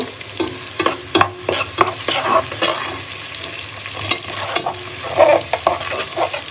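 Spices fry in a pan for chicken bhuna khichuri while a spoon scrapes and stirs them in repeated strokes, giving sharp knocks over a soft, continuous sizzle, with no talk.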